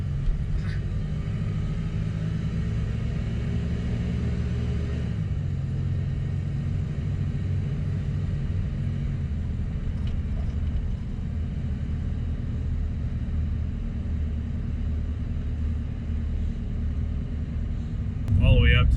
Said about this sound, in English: I'm out on the main road now, so now I'm gonna get it up to about 50 miles an hour